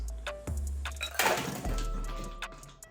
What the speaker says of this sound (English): After that, you can remove the ice and water from your chilled coupe glass.